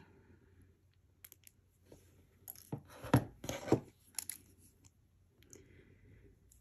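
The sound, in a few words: trimming beading wire for a ring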